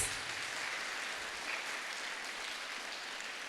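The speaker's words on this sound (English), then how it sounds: "A bigger round of applause." Steady applause from an audience at a motivational talk, a dense wash of clapping holding at an even level throughout.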